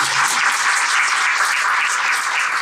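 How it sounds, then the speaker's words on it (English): An audience claps steadily for women leaders on a sustainable peace panel, a dense, even wash of applause that runs without pause for nearly three seconds. "huge claps to all the women leaders doing this"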